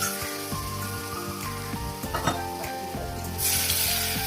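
Spice paste for a red fish curry fries in oil in a pan, a steady dense sizzle with scattered pops and occasional stirring scrapes, growing louder and brighter near the end.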